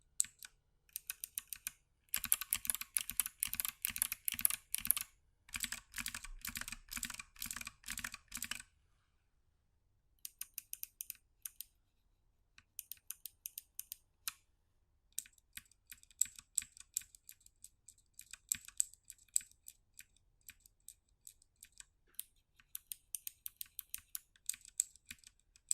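Crisp, clicky mechanical keyboard switches, including Kailh click bar types, typed in quick bursts up close, with a long pause midway and sparser, scattered keystrokes afterward.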